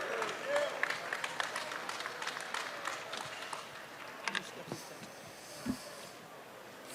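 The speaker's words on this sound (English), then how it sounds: "Give him a big round of applause." Applause and crowd noise fill a post-fight boxing press conference after Badou Jack wins the WBA light heavyweight title, a dense patter of clapping with scattered louder bursts, fading somewhat toward the end.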